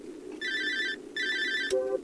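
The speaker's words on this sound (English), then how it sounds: "How do I answer my phone?" A mobile phone rings in the Cry of Fear horror video game, two bright electronic ringtone bursts with a short gap between them, loud and close, followed by a brief tonal chime. No voices are heard.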